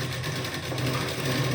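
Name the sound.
sewing machine stitching a lehenga blouse seam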